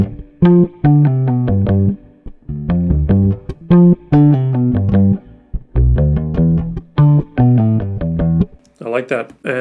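Electric bass lines sound together with a distorted, high-pass filtered layer, giving punchy, gritty notes in short phrases with gaps between them. A brief burst of a different, higher-pitched sound closes it.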